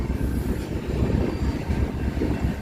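Aircraft droning overhead near a railroad in a historic Texas town, a steady broad low engine roar, fairly loud and continuous with no voices.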